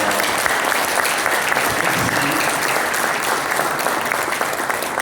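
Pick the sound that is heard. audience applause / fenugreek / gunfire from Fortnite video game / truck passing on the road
audience applause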